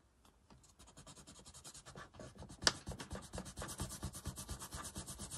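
A kneaded eraser rubs over Pilot Frixion pen ink on paper, a quiet continuous scrubbing in quick back-and-forth strokes that grows steadily stronger, with one sharp scrape partway through.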